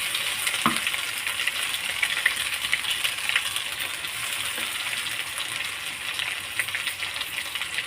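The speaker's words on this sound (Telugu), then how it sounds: "ఇది మనకి మంచి ఎర్రగా వేగి నూనె కొంచెం పైకి తేలి వరకు వేగాలి" Onion chili paste frying in hot oil in a pan, a steady close sizzle with a few faint clinks of stirring, continuous for several seconds with no talk.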